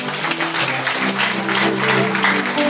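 Congregation clapping at a Sunday church service, continuous rhythmic hand claps from many people with a held musical tone underneath, loud and close.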